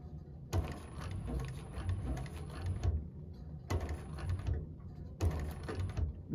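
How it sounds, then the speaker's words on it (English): A 1341 cylinder arm sewing machine sews a bag seam in three short bursts of whirring, ticking stitching, separated by brief pauses. "I might just sew all the way to the edge like I did the other one"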